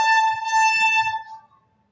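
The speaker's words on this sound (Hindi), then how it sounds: "दोस्तों यहाँ ट्रेन की आवाज़ आ रही है," A loud, steady train horn blares for over a second with a rich harmonic tone, then fades away.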